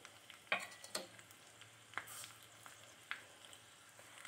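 Red chillies frying in hot ghee in a pan while tempering for lemon rasam, a faint steady sizzle with a few sharp crackles and spatters scattered through, no voices.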